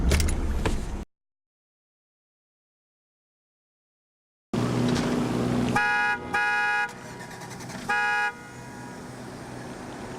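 A manual car's engine restarts after stalling: a brief rumble cuts to silence, then the engine catches with a sustained hum, overlaid by repeated tonal chimes or horn-like beeps.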